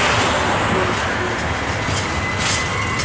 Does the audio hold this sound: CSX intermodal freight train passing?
yes